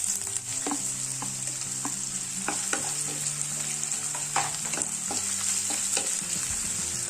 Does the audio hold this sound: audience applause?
no